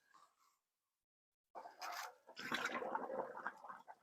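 A heavy brick pushing a bundle of straw down into water in a 5-gallon bucket: a brief rustle, then a burst of splashing and sloshing that continues as the straw is forced under.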